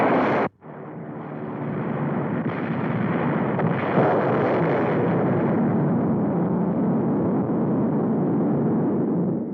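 Weapon fire from a 1952 film: after a brief sharp burst, a deep, loud roaring explosion rumbles on and sustains steadily for several seconds, dense and low, with no voices.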